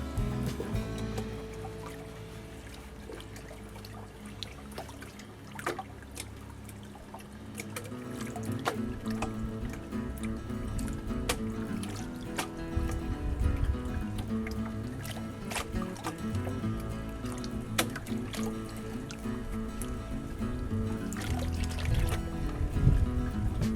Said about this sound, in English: Rattle, rattle, rattle, shake, shake, shake, pan, pan, pan. Tilt it forward, stop. Just rinse it off.